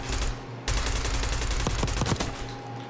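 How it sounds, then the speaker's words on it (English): AK-74 gunfire in a video game: rapid bursts of automatic rifle shots, sharp and loud, firing in quick rhythmic volleys after a brief pause. "That's the AK right there"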